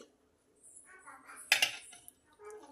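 Spinach tikki mixture being mixed in a bowl, a few soft scrapes and one sharp metallic clink of a utensil against the bowl, close and quiet, with no speech.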